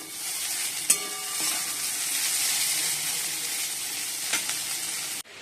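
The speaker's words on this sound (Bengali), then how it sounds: "এদিকে উচ্ছে আলু ভাজা বসিয়ে দিয়েছি" Bitter gourd and potato slices fry in a pan with a continuous bright sizzle, broken by a couple of sharp clinks of a utensil against the pan.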